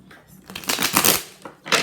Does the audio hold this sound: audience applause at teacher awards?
no